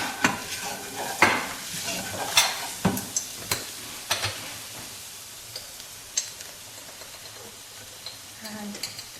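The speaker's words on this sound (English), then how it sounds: "We're now going to add all the spices" Ground spices being stirred into browned onions in a curry pan, with repeated sharp scrapes and taps of a utensil against the pan over a soft, steady sizzle, loudest early and thinning out later.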